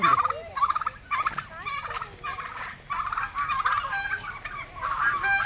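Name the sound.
birds calling at an eco park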